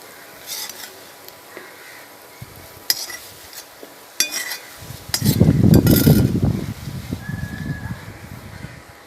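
Jackfruit seed fry being scraped from a pan into a bowl, with close clinking and scraping of utensil against metal, then a louder burst of rustling, shuffling movement toward the end, with no talk.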